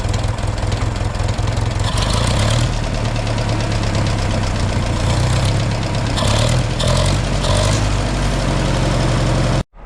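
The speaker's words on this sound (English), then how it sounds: "Let's rev up the engine a little bit." A 2000 Toyota Avalon engine with a no-spark fault on all cylinders runs steadily and loudly close by for about ten seconds, a rough, knocking idle with slight rises in revs, cutting off abruptly at the end.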